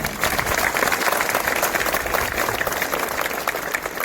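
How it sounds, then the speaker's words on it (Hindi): Lively applause from an audience at a youth convention held in a school setting, dense continuous clapping close by that holds steady for several seconds. "जोरदार तालियां एक बार।"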